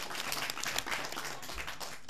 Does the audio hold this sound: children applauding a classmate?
yes